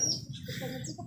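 A caged sooty-headed bulbul gives a few faint, short chirps over a low background hum.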